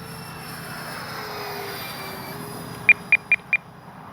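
A Freewing twin 70mm AL-37 RC jet with electric ducted fans roars steadily overhead in a sustained whooshing drone, and a rapid series of four short beeps cuts in near the end.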